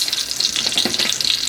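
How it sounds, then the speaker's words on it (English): Potatoes sizzling in hot oil in a pan for roast potatoes, a steady bright hiss with crackle, close and loud throughout. "as you can hear and see, all that sizzling"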